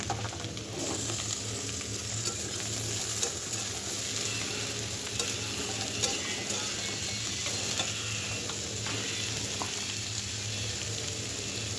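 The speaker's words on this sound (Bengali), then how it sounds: "এখন এক এক করে সব সবজিগুলো দিয়ে দেব ফুলকপি ছিম কুমড়া টমেটো মূলা আলু সব একসাথেই দিয়ে দেবো আমি" Cauliflower, flat beans, pumpkin, tomato, radish and potato tipped into a khichuri pot, a continuous close frying sizzle with scraping and stirring clatter running through, no voices.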